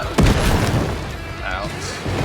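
A rocket flare fired in Alan Wake II, a sharp booming launch followed by a sustained rushing hiss, loud and close, with some speech present.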